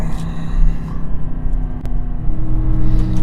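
A 2021 Aston Martin DBX cruises along a mountain road in the Colorado Rockies, its engine a steady, loud low rumble with road noise that swells slightly near the end.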